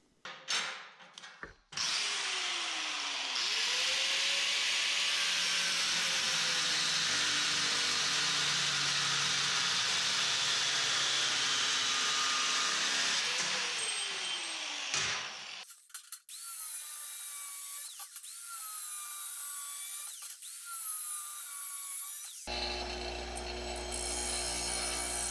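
A power tool cuts steel strut channel plates to length for a shop hoist track, a loud continuous grinding whine lasting over ten seconds, then shifting to shorter harsher bursts near the end.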